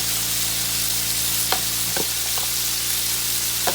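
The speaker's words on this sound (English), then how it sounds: "Now I'm going to let this sear off on one side, get nice and brown." Steak pieces searing in a frying pan, a loud, continuous close sizzle with low hum beneath and a few brief clinks or scrapes from utensils, no talking.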